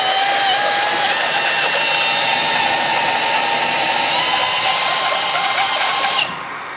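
Compressed air blasting metal chips out during machining work on off-road Jeep axles, a loud, steady, close hiss that holds for about six seconds before easing off.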